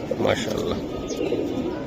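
Silver Giribaz pigeons of the Palla line coo in low, repeated throaty calls close by, mixed with people chatting over them.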